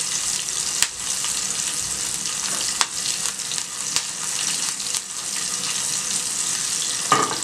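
Green chilies spit and sizzle in hot oil in a steady, close crackle, with a few sharp ticks and pops scattered through and no voices.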